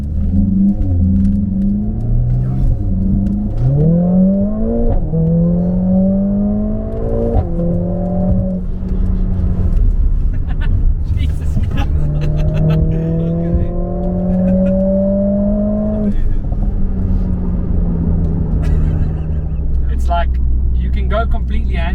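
A Mercedes-AMG A45 S accelerates, heard from inside the cabin as a loud engine tone climbing in pitch through several gear changes, then easing to a steadier drone, with voices talking over it.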